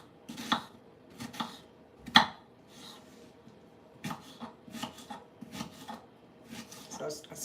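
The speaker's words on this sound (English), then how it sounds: "Yeah, so cutting the onions" A kitchen knife cuts and minces onions for meatloaf on a cutting board. Irregular, close knocks and chops come in small clusters, with soft rubbing scrapes between them, at a quiet overall level.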